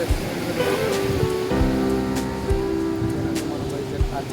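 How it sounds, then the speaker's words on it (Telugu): Surf washing onto RK Beach in Vizag at night, a steady low rumble of breaking waves with soft hiss, under a continuous murmur of crowd voices and some tonal background sound. "finally we are in RK beach night పూట ఆర్కే"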